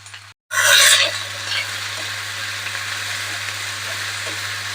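Turmeric and pepper powder stirred into hot oil in a pan for a Kerala prawn theeyal, a sharp sizzling burst after a brief gap, then a steady softer frying hiss with light scraping.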